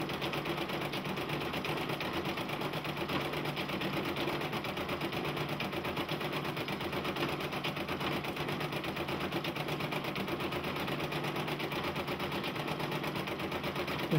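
A Brother embroidery machine stitching a design, a fast, even mechanical needle chatter running steadily and unbroken at moderate volume throughout.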